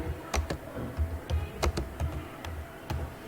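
Computer keyboard typing heard up close: a quick, irregular run of key clicks and thumps, about a dozen strokes over a few seconds, with no talk over it.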